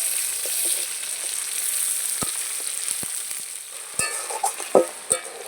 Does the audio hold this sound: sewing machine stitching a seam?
no